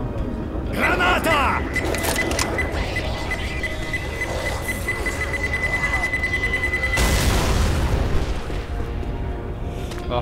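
A grenade explodes in the video game Left 4 Dead, a loud broadband blast bursting out partway through, set against continuous game noise with voices talking.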